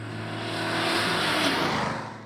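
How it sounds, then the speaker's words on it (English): A 1967 Pontiac Firebird with a Pontiac 350 engine revs up, the throaty V8 note rising and swelling loud and close, then easing slightly as it settles, with no talk over it. "The engine in it now is a Pontiac 350"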